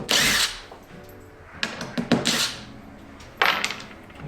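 Power drill backing screws out of wooden archway framing for a shower opening, several short whirring bursts with brief pauses and thunks between them, close and fairly loud.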